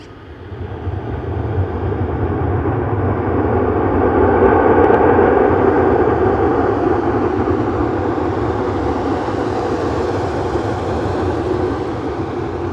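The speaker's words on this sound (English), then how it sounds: "This is a Mando MD-83. Now watch these bucket reversers. Listen to this." An MD-83 jet airliner deploys its bucket thrust reversers, producing a loud, sustained broadband roar that swells and then holds steady before easing slightly, with no voices.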